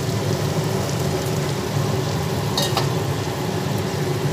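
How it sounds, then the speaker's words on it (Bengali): Chicken pieces with green chillies and spices, for a yogurt chicken dish, being stirred and fried in a pan: a steady, dense sizzle with a brief scrape of stirring partway through, close and continuous, with no talking. "মাংসটা দেওয়ার পরে আবার ভালোভাবে নাড়াচাড়া করে নিচ্ছি।"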